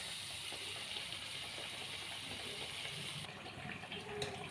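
Potato bread crunchies deep-frying in a pan of hot oil give off a steady, loud, hissing sizzle that holds throughout with no talking.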